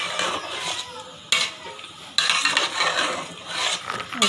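Chicken karahi being stirred with yogurt and spices in a pot: close, loud scraping and stirring strokes with wet sizzle, a few sharp clanks of the spoon against metal, and no talk.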